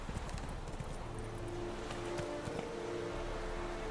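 Horse hooves clip-clop in a steady trot along a road in The Witcher 3 video game, close and continuous, with faint game ambience underneath.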